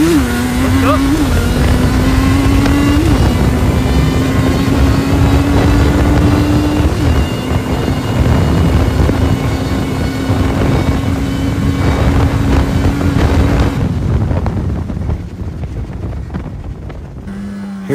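A Yamaha Blaster quad launching in second gear for a drag race, its engine holding a loud, steady drone that climbs in pitch through shifts, buffeted by wind noise, then cutting off near the end.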